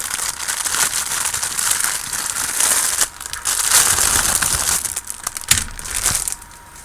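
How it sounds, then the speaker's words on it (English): A plastic bag crinkles and crackles continuously as a Tamiya 1/35 scale Tiger I Ausf E model kit is unboxed, with busy, close rustling bursts and brief pauses, and no talking. "Noisy bag there."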